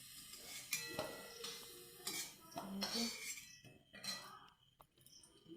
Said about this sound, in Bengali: সব আলুগুলো তুলে নিচ্ছি